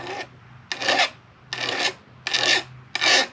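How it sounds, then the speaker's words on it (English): A flat file is stroked across the top of a raker on a Stihl chainsaw chain, five close, steady rasping strokes with short pauses between them. "Come across and hold the file."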